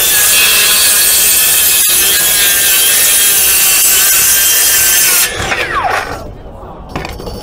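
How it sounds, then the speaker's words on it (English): Bosch GSA 18V110 cordless reciprocating saw cutting through wood at a trade show demo, a loud, steady rasping buzz for about five seconds that cuts off abruptly, leaving crowd noise behind. "this is our new GSA 18V110 recip saw"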